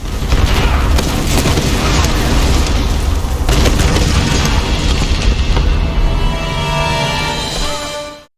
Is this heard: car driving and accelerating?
no